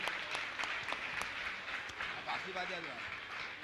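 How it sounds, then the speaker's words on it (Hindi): Applause from a seated congregation at a Jain discourse gathering, steady and moderately distant, with scattered sharper claps and a faint voice or tone briefly rising through it. "जोरदार इन सभी के लिए ताली बजाकर इनका सम्मान करें"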